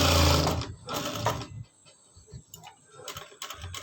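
A sewing machine runs in short bursts while stitching a ruffle on a child's frock, loud whirring runs broken by pauses and a few light mechanical clicks nearby.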